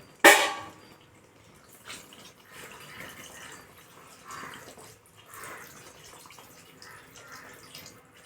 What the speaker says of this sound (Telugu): అలాగే కొంచెం వాటర్ అనేవి కూడా యాడ్ చేసుకుందామండి.